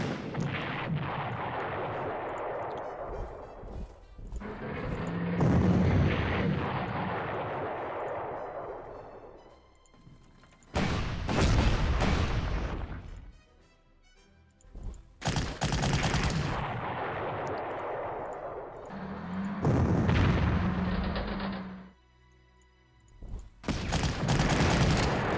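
Artillery and gunfire from the Panzer Corps war strategy video game, with heavy booming blasts and rolling barrages. Long rumbling volleys alternate with sharp bursts, loud and continuous, and no voices are heard.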